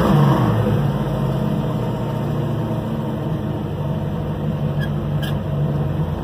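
A warmed-up 1967 Chevrolet Camaro engine idles at about 1,200 RPM, a loud, steady, close-up rumble that holds even throughout with no other sounds.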